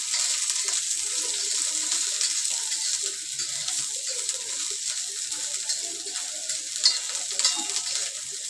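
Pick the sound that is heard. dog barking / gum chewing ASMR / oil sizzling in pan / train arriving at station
oil sizzling in pan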